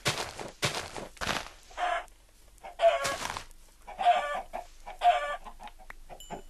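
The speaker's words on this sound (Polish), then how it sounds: "kurczaki też się przydadzą." Chickens in the video game Minecraft, several short clucks repeating at irregular intervals, fairly close and clear against near silence, with no talk.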